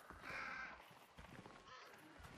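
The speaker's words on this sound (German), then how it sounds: "Oh, stopp, zurück, da sind Raben." Ravens cawing in the Hunt: Showdown video game, a couple of harsh caws at moderate distance over a faint outdoor ambience.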